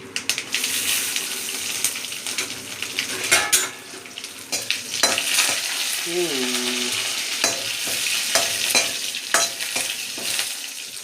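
Cinnamon, chili, curry leaves and crushed garlic fry in oil, sizzling and crackling steadily in a pan, close up, with scraping stirs and clinks of a utensil against the pan throughout.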